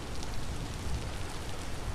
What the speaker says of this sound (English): It is definitely raining there.